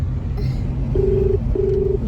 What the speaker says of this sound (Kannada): ಅಮ್ಮಂಗೆ ಫೋನ್ ಮಾಡ್ಬೇಕಂತೆ, ಮಾಡ್ಬಿಡೋಣ